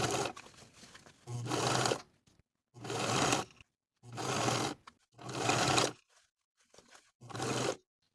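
A sewing machine stitches a bias-tape-bound jacket sleeve hem in five steady, close bursts of rapid whirring, each about a second long, separated by short silent pauses.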